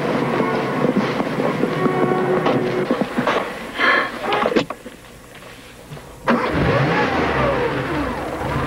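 A Porsche turbo car accelerates in a rising, revving engine surge, drops away briefly, then picks up again with a steady drone, heard from inside amid scattered clatter.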